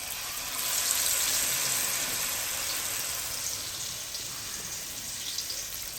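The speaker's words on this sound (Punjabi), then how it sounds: "ਮਗਰ ਬੱਚਿਆਂ ਦੀ ਫਰਮਾਇਸ਼ 'ਤੇ ਮੈਂ ਇਹਨੂੰ ਫਰਾਈ ਕਰ ਰਿਹਾ।" Dolla fish pieces coated in gram flour and spices frying in hot oil: a steady, soft, even sizzle and crackle that carries on throughout at moderate loudness, with no one talking.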